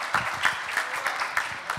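Applause from an audience at an evening talk event, a steady wash of clapping with a few louder peaks, moderately near and alone for under two seconds.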